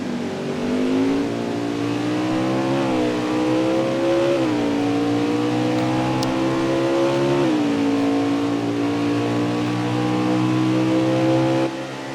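Xfinity race cars at Mid-Ohio roar with a loud, sustained engine drone that climbs and drops repeatedly as they accelerate and brake into corners, with no commentary over them.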